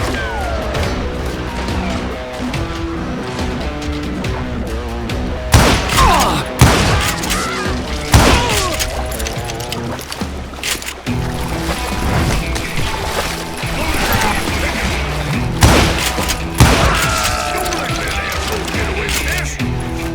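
Gunfire in the Western shooter Call of Juarez: Gunslinger, with loud bursts of shots, crashes and booming impacts over a steady music bed.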